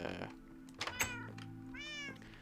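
Several cats meow inside a video game, a clear tonal cry near the start and another rising, wavering meow later, set over a steady low background hum with a couple of brief clicks between them.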